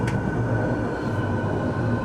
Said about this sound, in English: And here comes the train we're looking for.